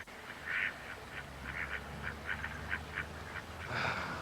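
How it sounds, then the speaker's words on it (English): Ducks quacking in botanical gardens, a scatter of short, moderately loud quacks at irregular intervals over a soft outdoor background, with no voices. "And ducks quacking."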